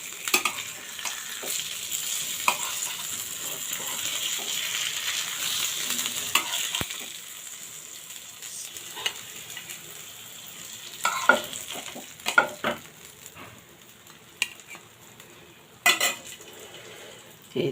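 Puti fish frying in a pan, a steady hissing sizzle with scraping stirs and sharp clinks of a utensil against the pan, close and alone, the sizzle easing as the pieces are lifted.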